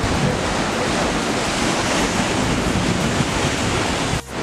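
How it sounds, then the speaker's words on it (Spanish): Sea waves crash steadily against rocks at Playa Villa Rica, a loud continuous roar of surf with wind noise and no talking. "Donde las olas chocan contra las piedras"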